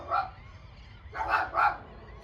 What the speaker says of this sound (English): Those are my dogs, of course. They're saying good morning to you guys.